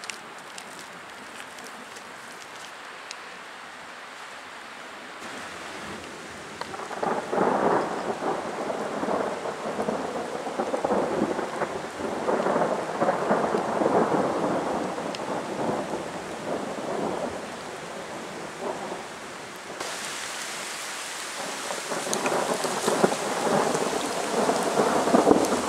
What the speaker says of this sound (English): This storm just came through. It started just pouring and lightning,